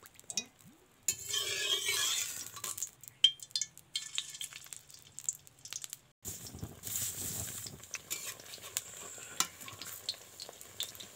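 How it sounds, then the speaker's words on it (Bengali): Eggplant fritters (beguni) frying in oil in a wok, a loud bubbling sizzle that pauses briefly and resumes, with occasional clinks of a utensil against the pan. "এপিট ওপিট করে ভেজে নিলেই রেডি বেগুনি"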